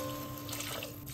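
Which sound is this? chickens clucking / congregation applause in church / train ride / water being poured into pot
water being poured into pot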